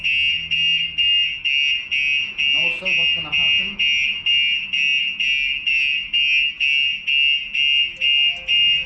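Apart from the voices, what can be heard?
vehicle alarm system siren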